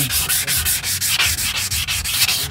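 A dented car bumper coated in epoxy is wet sanded by hand with soapy P400 sandpaper, giving steady rhythmic back-and-forth rasping strokes, loud and close, with no talking.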